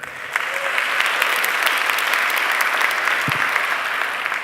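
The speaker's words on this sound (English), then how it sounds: "How about one more round of applause for the governor?" An audience at a fireside chat event gives the governor a round of applause, loud, dense clapping that stays full and steady throughout, close and without talk.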